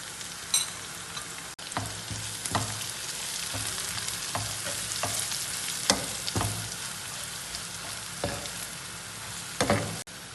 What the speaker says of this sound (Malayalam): ഇപ്പൊ നമ്മുടെ സവാളയൊക്കെ വഴറ്റി വന്നിട്ടുണ്ട്